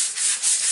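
Sandpaper rubs across the finish of a piano in steady back-and-forth strokes, giving a continuous hissing scrape with no voices.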